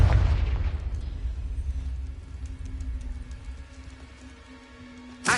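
Confringo fire spells from the Hogwarts Legacy video game burst with a heavy boom at the start, then fade into a rumbling crackle. A second sharp blast hits right at the end.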